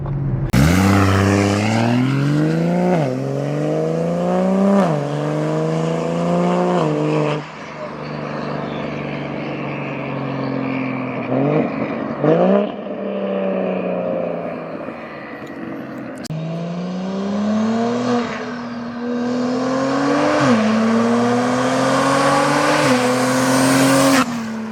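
A powerful BMW X3 M engine converted to a single turbo revving up and down through several gear pulls, with a high turbo whistle riding over the roar.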